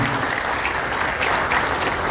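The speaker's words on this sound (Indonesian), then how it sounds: "Tepuk tangan buat para pimpinan semua." Loud, dense applause from an audience at a union meeting of workers at PT Sumi Rubber Indonesia, clapping for the leaders present, a close and sustained roar of many hands.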